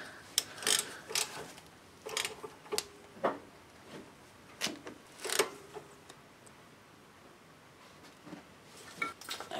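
Brake caliper bolts on a 2005–2010 Jeep Grand Cherokee are tightened with a ratchet, giving quiet bursts of rapid metallic clicking and clinks separated by short pauses, heard close in a quiet garage.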